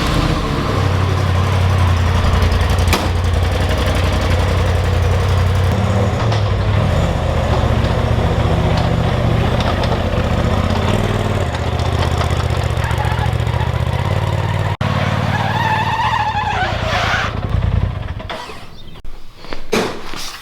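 A Polaris RZR Turbo S side-by-side idles as it warms up, a steady loud rumbling engine drone that holds for most of the stretch before tapering near the end.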